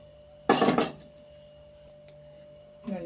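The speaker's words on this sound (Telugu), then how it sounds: "గిన్నె పెడతాను ఇందులోకి అండి." A bowl set down in a home kitchen gives one loud, close clattering knock of dishware that quickly fades, followed near the end by a softer second clink.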